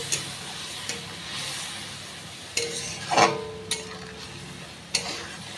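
Fish curry masala with tomato being stirred and sautéed in a pan after a little water is added, a soft steady sizzle broken by occasional scrapes and clinks of the spoon against the pot.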